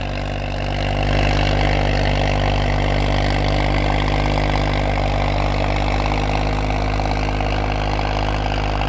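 A Swaraj 744 tractor pulls a 16-disc harrow through a wet sugarcane field in first gear high range, its diesel engine droning loud, steady and close throughout with no talking.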